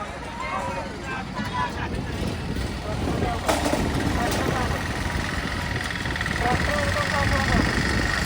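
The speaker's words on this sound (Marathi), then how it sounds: "पाण्याचा ट्रॅक्टर चालला आहे" A water tanker tractor's engine drones on throughout at a village fair, a low continuous rumble with voices talking faintly over it.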